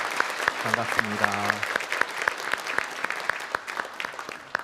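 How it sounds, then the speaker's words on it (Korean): A church congregation claps together to welcome newcomers at a Sunday worship service, with sharp overlapping claps continuing for several seconds while someone speaks briefly over the start. "우리 박수로 환영하겠습니다"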